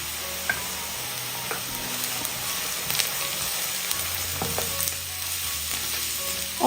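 Sliced onions and torn curry leaves sizzle loudly in a pan while being stirred, steady frying hiss broken by scraping and clinking of the spoon, close by with no talk.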